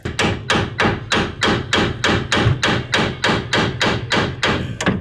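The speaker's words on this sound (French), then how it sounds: "je vais peut-être mettre un coup de marteau pendant que vous faites ça" Rapid, steady hammer blows on a seized car suspension ball joint, about a dozen sharp metal strikes in quick rhythm, loud and close.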